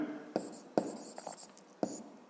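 A pen scratches out an answer on paper in three short bursts of quick strokes, close and quiet, with brief pauses between them.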